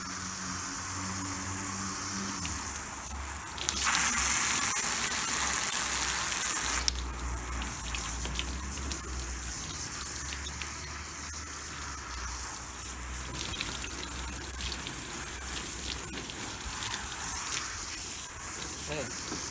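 Garden hose spraying water onto a white gaming mousepad, a steady rushing hiss that runs for the whole stretch, with a brief louder burst of spray partway through, close and fairly loud.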